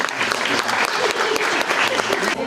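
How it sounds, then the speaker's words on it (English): Audience applause rings out at the end of a Sheepworld farm show in Auckland, New Zealand: dense, steady clapping from a crowd filling the whole moment, close and loud throughout. "You can give us a round of applause"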